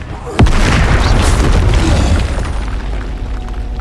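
A Confringo spell explosion in Hogwarts Legacy, a sharp booming blast followed by a rumbling, crackling roar that stays loud and slowly settles.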